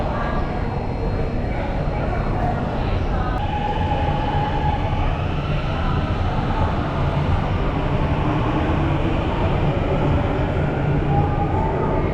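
A subway train rumbles through a Chongqing metro station, a loud continuous roar of wheels on rail with faint squealing and clatter, close by, while people talk underneath it.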